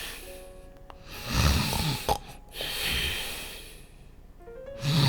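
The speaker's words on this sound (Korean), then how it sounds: "한바탕 하고 난 박 씨는 기분 좋게 안방 한가운데 대자로 드러누워 코를 골고 잠을 잤습니다" A man sleeping sprawled on the floor of a room snores loudly, with a few long rasping breaths close by and a brief sharp knock partway through.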